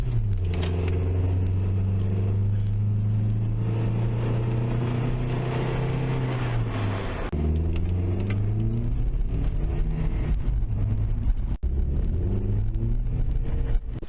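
Engine of a first-generation Scion xB (2003-2006) with a modified air intake, a steady loud drone that rises in pitch through a rev, drops, then climbs again, with no talking.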